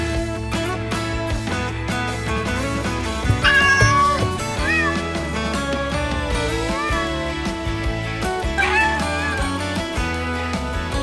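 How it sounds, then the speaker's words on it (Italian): A cat meows several times in short, rising calls over a busy musical background, with the meows standing out clearly around the middle and near the end. "C'è un gatto! Sta arrivando!"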